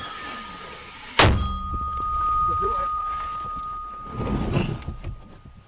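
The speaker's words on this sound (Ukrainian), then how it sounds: "Постріл!" A single sharp, loud blast of an artillery gunshot cracks out near Toretsk, Ukraine, followed by a lingering low rumble and quiet background sounds.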